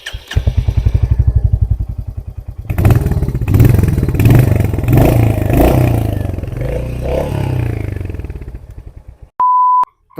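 A Royal Enfield Hunter 350 single-cylinder motorcycle thumps loudly up close with a rapid, even idle pulse, then revs and settles as clattering noises pass over it. A steady electronic beep sounds near the end.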